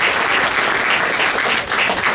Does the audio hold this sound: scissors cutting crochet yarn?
no